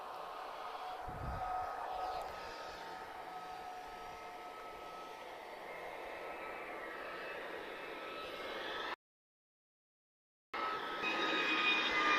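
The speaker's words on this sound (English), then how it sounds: "Quite a long takeoff roll there, but we're looking at the long range, of course." An Airbus A321neo long-range jet on its takeoff roll at Lisbon Airport gives a steady, sustained engine roar with a whining tone, heard from a distance with no talking, cut by a brief dropout near the end.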